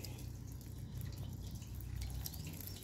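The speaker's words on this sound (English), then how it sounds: "and pour it over top of the tank." Very hot water is poured from a cup down the side of a propane tank, a faint, steady trickle and dribble close by with no talking.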